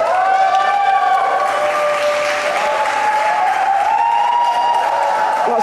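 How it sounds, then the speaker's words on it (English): A poolside crowd at a freediving world championship cheers and applauds loudly and continuously, with whoops and shouts rising over dense clapping that echoes through the indoor pool hall. "cheering."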